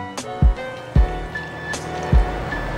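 Fresh pomegranate juice poured into a cocktail shaker over muddled leaves, three short liquid glugs and splashes in a tin, close and clear with brief pauses between.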